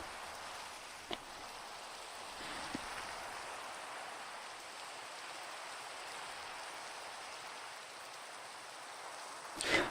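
Steady rain in a video game, a soft continuous hiss of falling drops with a couple of faint clicks and a brief rustle at the end.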